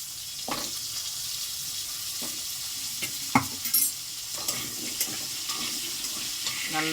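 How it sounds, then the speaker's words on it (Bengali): Potatoes sizzle in hot oil in a pan as a utensil repeatedly scrapes and stirs them, with a steady frying hiss beneath irregular close scraping knocks. "আমি আগে আলুটাকে লাল লাল করে ভাজবো"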